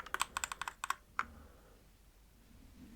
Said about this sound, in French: J'ai investi dans un clavier.